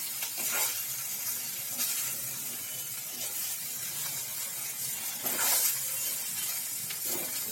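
Steady close sizzle of green chillies and hing tempering in hot oil for Surti khaman, a constant frying hiss with occasional stirring scrapes and louder spurts, and no voices.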